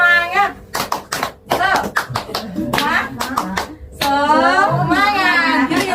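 A group performs the rhythmic Indonesian 'tepuk semangat' spirit clap at a child-protection training session, with sharp clap bursts in a patterned beat mixed with voices chanting and talking.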